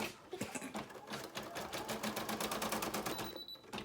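A sewing machine stitches a 4x4 bookmark, a fast, steady mechanical rattle of rapid needle strokes running close and loud throughout, with a few faint beeps near the end.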